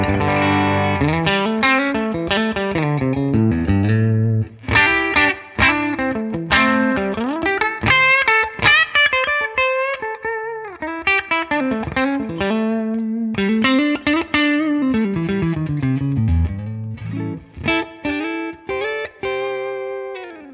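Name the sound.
electric guitar through Tonex amp capture, push 1 setting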